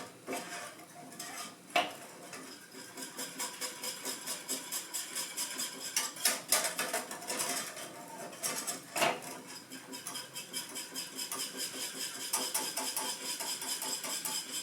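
Whisking a mixture in a bowl: steady, fairly close scraping and clinking of a whisk against the bowl for the whole stretch, with a few louder knocks and no talk.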